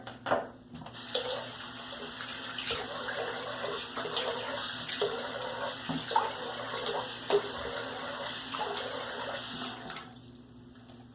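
Water from a bathroom tap runs steadily into a sink while a shaving soap lather is being built. The flow is fairly close and constant, with small splashes and clinks, and it stops abruptly near the end.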